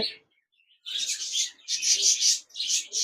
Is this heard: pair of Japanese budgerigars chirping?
yes